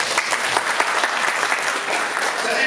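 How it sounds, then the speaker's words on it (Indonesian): Audience applause at a teachers' association (PGRI) regional conference in Jember, a dense, steady wash of many hands clapping throughout, loud and close, with no talk over it. "tepuk tangan Jawa Timur"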